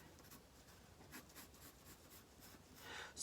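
Faint scratchy strokes of a pencil sketching on paper, soft intermittent rasps in a quiet room.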